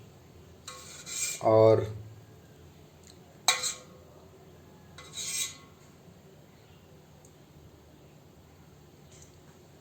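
Butter being scooped from a cooking pot into a bowl while making desi ghee: a few short scraping and clinking spoon-on-metal strokes in bursts, moderately close, with a brief spoken word.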